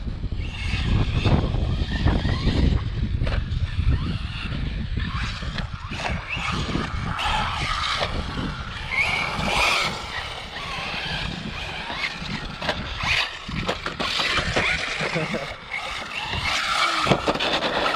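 Arrma Typhon RC cars, 6S-powered, race around a small pump track with a berm, motors whining loudly and continuously with tire scuffs and skids over the whole stretch, no voices.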